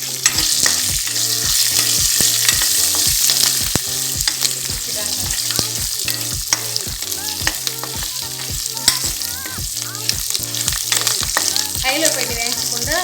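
Dry red chillies, curry leaves and a little coconut frying slowly in a pan for Chettinad chicken make a continuous close sizzle, cut by regular rhythmic scraping and tapping of a stirring spoon.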